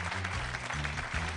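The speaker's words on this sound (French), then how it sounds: "Je voudrais qu'on applaudisse Vince" A faint, short burst of audience applause for a friend at an oyster farmers' gathering, heard over a low steady hum.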